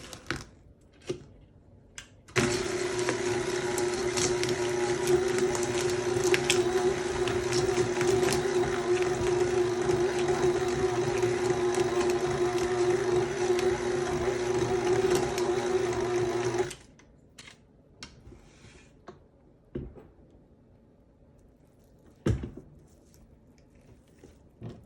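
Electric mixer blending cookie dough with milk chocolate and salted plantain chips, a steady loud motor whir running about fourteen seconds before cutting off, with quiet kitchen clatter and thumps around it.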